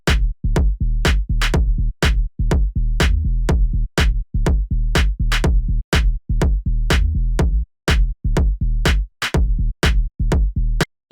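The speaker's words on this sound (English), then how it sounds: "So the bass I made together with a kick and clap sounds like this" A low, punchy synthesized bass line plays in a steady groove with a kick drum and clap, short sharp hits repeating rhythmically and loud, with no voice.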